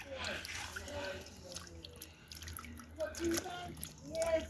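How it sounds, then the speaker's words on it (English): A chicken foot is rinsed in vinegar water, giving soft, quiet splashing and dripping under a person's talking. "So there's vinegar in this water already guys, so just giving it a quick rinse off."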